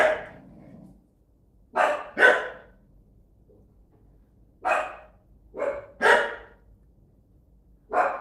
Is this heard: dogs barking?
yes